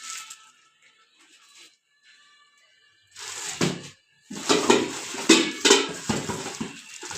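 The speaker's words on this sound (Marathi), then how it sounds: "हे मित्रांनो स्टीलचे 3 गंज." Heavy, thick steel cooking pots are handled up close, giving bursts of clattering metallic knocks and scrapes after a quiet stretch, with no voices.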